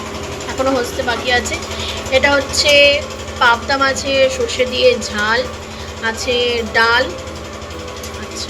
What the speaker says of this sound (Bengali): আর ওই যে ওখানে জেনারেটর চলছে